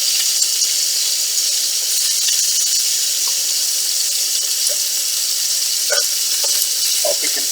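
Food sears, heart side down, on a hot grill for a Maltese fresh pea salad, producing a loud, constant hissing sizzle with a few faint ticks and pops scattered through it.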